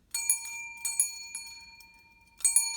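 A larger hand bell with a deeper tone, struck three times in an irregular rhythm, each bright ring lingering and slowly fading, close and clear with no talk.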